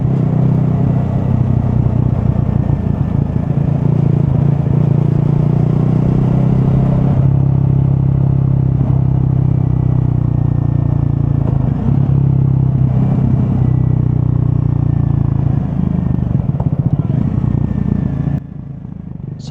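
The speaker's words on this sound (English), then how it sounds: "I'm on the Triumph Scrambler 400xc, which I've got for a couple of weeks." A Triumph Scrambler 400 XC motorcycle rides along back roads with a loud, continuous engine drone and rumble close by, holding steady for the whole stretch.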